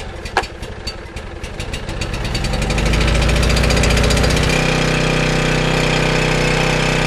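A Coleman Powermate 1850 portable generator engine cranks and catches, its uneven sputter building within a few seconds into a loud, steady, close-up drone that continues to the end.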